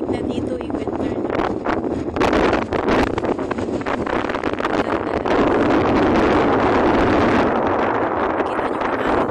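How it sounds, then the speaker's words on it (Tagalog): Strong gusty wind in the desert at Al Qassim buffets and roars across the microphone, rising and falling in waves, close and loud throughout. "Ayos ng hangin kasi malamig na dito."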